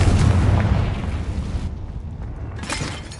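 A Confringo blast spell goes off in Hogwarts Legacy, a loud, broad explosive boom with a rumbling tail that fades, then a second sharp burst near the end.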